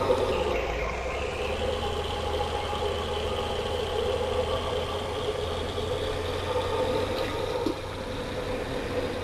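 In a video game, a truck with a 7.3 engine rumbles steadily as it pulls away in first gear, a continuous mid-pitched drone with a slight rise in tone, heard alone without talk.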